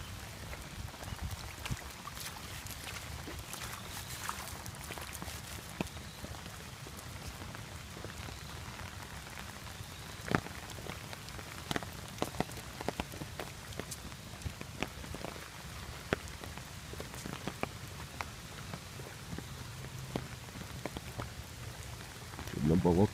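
Steady rain falls outdoors, pattering close by. Scattered heavier drips and taps sound over a constant wet hiss.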